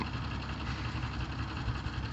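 Antique tractor's gas engine running steadily with a low, constant rumble, moderately quiet, with no talk over it.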